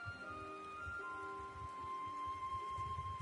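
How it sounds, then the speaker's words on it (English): Steady rain falling in the video game Final Fantasy XIV, a soft continuous patter with low rumbling beneath and sustained game music tones running over it. "It's raining!"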